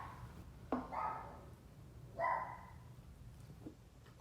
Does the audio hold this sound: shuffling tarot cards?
no